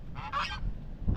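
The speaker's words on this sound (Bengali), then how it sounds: "আর এইখানকার মানুষের রাজহাঁস রয়েছে বাড়িতে দুটো" Two domestic geese at a rural Sundarbans household honk in a quick pair of loud, nasal calls at close range, followed by low background rumble.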